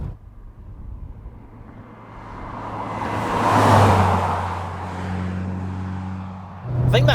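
A Porsche 944 S2 with a 16-valve four-cylinder engine and a 5-speed gearbox, its engine note building and fading as it drives past, and a voice speaking over it near the end.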